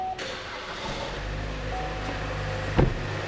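Car engine idling steadily after a jump-start from a running van, a low even rumble close by with a brief knock or clunk near the end.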